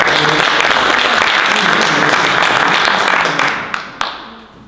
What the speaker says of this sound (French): Je propose aussi qu'on l'applaudisse